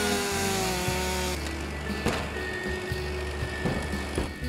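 A power saw cuts a ventilation hole through an arched roof during a fire-service vertical ventilation drill. The engine drones loudly with a shifting pitch, and the rough tone changes as the blade bites into the roof. No voices are heard.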